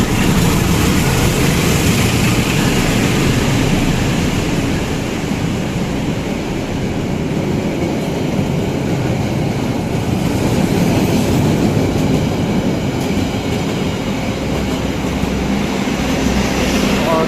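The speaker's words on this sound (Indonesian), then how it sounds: "Ada KA melintas langsung." A train passes straight through Manggarai station without stopping, a loud, continuous close roar with steady rumbling and rail noise for the whole stretch.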